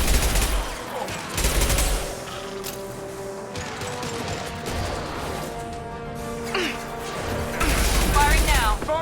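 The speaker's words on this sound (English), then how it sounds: "Firing an impact shot!" Impact shot weapon fire in the Mass Effect 2 game: heavy, crashing blasts at the start and again near the end, with mechanical clatter and voices in between.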